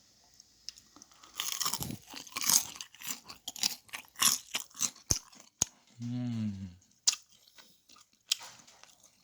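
Crisp crunching bites into fried chicken, several sharp crunches and chewing up close, with a brief murmur of a voice partway through.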